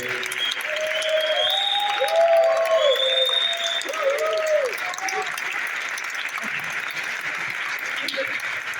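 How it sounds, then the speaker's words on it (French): Audience applause at a 35th-anniversary cocktail reception for Maison Plein Cœur, a steady broadband wash of clapping that continues throughout, with voices and cheers rising over it in the first half. "Levez-vous, s'il vous plaît, qu'on puisse vous applaudir."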